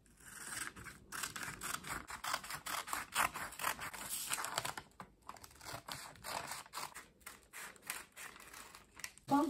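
Scissors snip through dress fabric in quick, irregular cuts close by, with short pauses between bursts of cutting.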